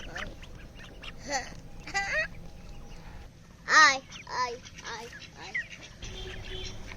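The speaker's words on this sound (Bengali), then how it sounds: "আমরা ই করছি হাঁসকে খাওয়াতে দিছি" Ducks quack in short bursts as they are fed on a duck farm, among people talking nearby, with a few louder calls standing out over steady background noise.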